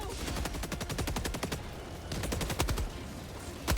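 Rapid automatic gunfire from the Helldivers 2 video game, two sustained bursts of fast, evenly spaced shots separated by a short pause, loud and close, with no talking.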